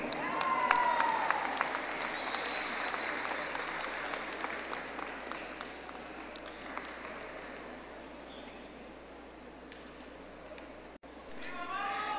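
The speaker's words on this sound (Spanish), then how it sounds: "Un aplauso para Sichos" Audience applause at a 2023 election credentials ceremony in Cotopaxi, a broad steady clapping crowd that starts loud and slowly fades, with a brief pause near the end before clapping swells again.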